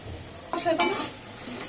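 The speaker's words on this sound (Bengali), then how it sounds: "তেলের মধ্যে মশলাগুলো 1 মিনিট কষিয়ে নেব" A brief burst of sizzling as ground coriander, cumin and black pepper hit hot oil, with a stirring scrape, close and short.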